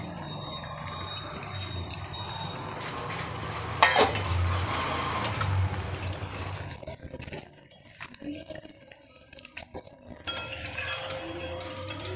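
Fried soybean chunks tipped into a metal cooking pan clatter and clink against the metal amid a sizzling hiss, followed by quieter scraping and stirring.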